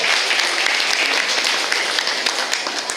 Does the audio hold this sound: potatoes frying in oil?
no